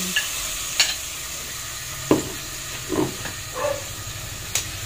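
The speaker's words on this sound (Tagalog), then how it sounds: "Golden brown na yung ating bawang. Lagay ko na yung aking atay." Liver goes into a pan of golden-brown garlic frying in oil, and a soft steady sizzle breaks into several sharp spatters and pops.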